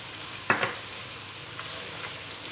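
Ground spices for daal (turmeric, salt, red chilli powder, dried fenugreek) frying in a pan with a steady close sizzle, broken by a couple of sharp stirring scrapes early on.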